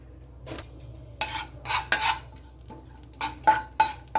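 Whole spices, a piece of cinnamon, two cardamom pods and half a teaspoon of cumin, being stirred in about two teaspoons of hot oil in a pan, with several brisk scraping strokes and light clinks of a spoon against metal between quiet pauses.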